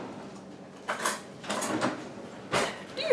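A fork clinking and scraping against a bowl while an egg is mixed for keto bread, three or four short scraping strokes separated by pauses, close and fairly quiet.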